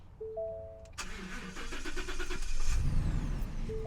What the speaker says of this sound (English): start it up and see if it cranks slow this time